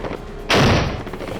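A single loud, sharp burst of gunfire cracks out at a border post, a brief blast with a short decaying tail over a quieter background.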